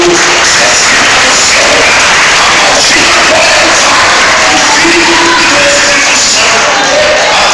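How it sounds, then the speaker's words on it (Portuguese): A church congregation applauds and cheers during a Portuguese-language sermon, a dense, steady wash of clapping and crowd voices with shouts rising through it for the whole stretch. "aplauda ao Senhor"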